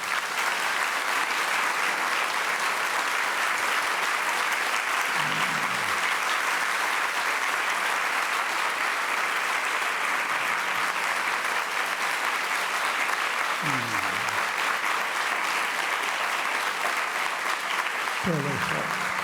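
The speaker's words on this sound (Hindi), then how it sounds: "ताली बजाना जोर से।" Loud group clapping fills the room continuously from start to finish at a meditation session, with a few brief voices breaking through near the middle and end.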